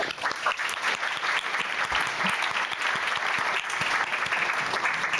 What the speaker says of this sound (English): So I'd like everyone to give them a very hearty round of applause.